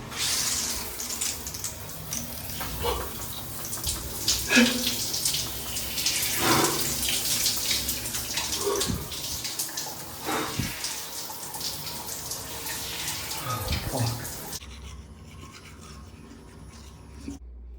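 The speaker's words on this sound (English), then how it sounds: "Start every day with a cold shower." Running water in a bathroom during a morning routine, a close hiss of flowing water broken by scrubbing, splashes and clatter, then cut off near the end.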